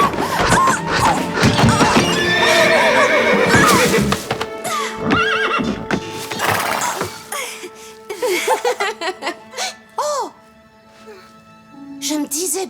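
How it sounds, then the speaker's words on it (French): Agitated cartoon horse neighing loudly and repeatedly, with clip-clop hooves and crashing noises mixed under lively voices and laughter. "c'est un cheval très agité"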